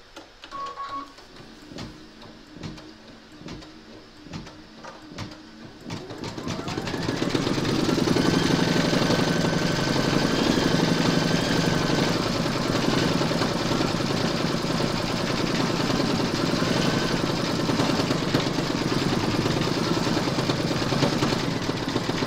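An embroidery machine stitches a turkey applique on a quilted placemat, starting with sparse clicks and taps before settling into a loud, continuous, rapid mechanical whirring that carries steadily to the end.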